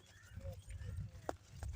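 Horses walk on a village road, their hooves clip-clopping softly under steady low rumbling background noise, with a voice talking over them.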